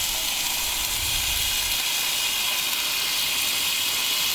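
Teriyaki sauce basted onto beef negimaki rolled with green onions on a hot griddle, producing a steady, loud broadband hiss and sizzle that stays even throughout, with a faint low thump early on and no talk.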